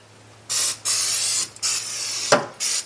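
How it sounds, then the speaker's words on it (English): Short bursts of non-stick cooking spray hiss onto a dehydrator tray, four or five close, loud aerosol blasts separated by brief pauses over a low steady hum. "I'll give this a little spray with my non-stick."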